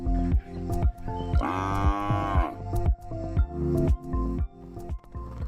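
Cattle at a feedlot: a cow lets out one long, loud moo amid a regular series of soft, squelchy thumps and drips repeating roughly twice a second in a close, quiet space.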